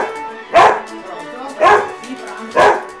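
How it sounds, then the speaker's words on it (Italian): A dog reacting to guests arriving or the doorbell barks three loud, close barks about a second apart. "Se ogni volta che arrivano ospiti, o suona il campanello, o il citofono, o qualcuno ti bussa alla porta, il tuo cane reagisce così"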